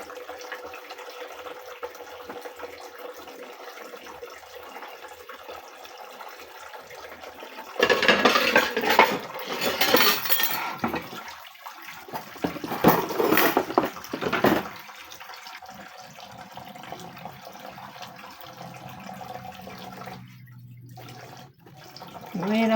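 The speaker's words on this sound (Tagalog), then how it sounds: "Ngayon ako maghugas na" Water runs from a tap in bursts while dishes are washed, splashing and rushing loudly in the middle, with clinks of dishes and quieter stretches of kitchen sounds before and after.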